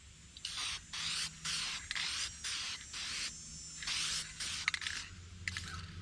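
Clear lacquer is sprayed over iridescent powders on a muskie replica in a quick series of short, hissing bursts separated by brief pauses, faint and close.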